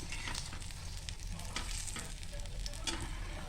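Rava burger patties fry in a shallow pan, a steady close sizzle of hot oil with brief crackling bursts and light spatula scrapes as they are turned.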